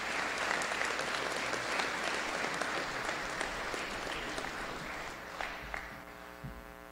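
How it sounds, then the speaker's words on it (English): Sustained applause fills a school graduation ceremony, a dense crowd of clapping hands at a steady level. It thins slightly toward the end as a low hum and a few louder nearby claps stand out. "So we owe them a big round of applause."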